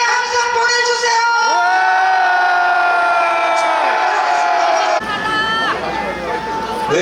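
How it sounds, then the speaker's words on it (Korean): A rally crowd in Korea cheers and shouts in encouragement for a young speaker, a loud continuous roar of voices with whoops, dropping slightly near the end. "격려의 함성 보내주세요."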